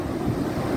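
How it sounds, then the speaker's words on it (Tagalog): Big ocean waves surging and rushing on a windy shore, a continuous loud roar mixed with heavy wind buffeting the microphone. "Ayun, oh, lalaki ng alon."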